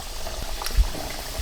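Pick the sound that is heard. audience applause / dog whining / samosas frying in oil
samosas frying in oil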